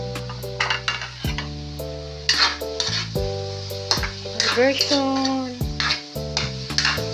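Pork and spices sizzle in hot oil for a Filipino pakbet vegetable sauté, with steady frying hiss, clinks and scrapes of a utensil in the pan, and music playing over the cooking.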